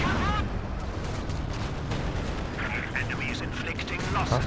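An artillery barrage in a real-time strategy game rolls on as a continuous dense clatter of booms and gunfire, with bursts of higher crackle partway through and a commentator's voice faintly mixed under it.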